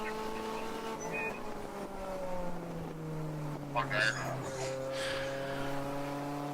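A race car at the ChampCar endurance race at Pittsburgh Grand Prix holds its engine note through corners, a steady droning pitch that rises and falls, heard at a distance under commentators' talk.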